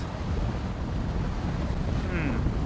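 Wind rushes over a sailing catamaran motoring almost directly into the wind on one engine at 2000 RPM, a steady close buffeting roar with water washing against the hull.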